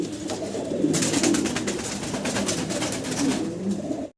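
Pigeons coo at a pigeon market, a continuous close chorus of soft throaty calls with a steady background hum of the crowded birds, ending abruptly.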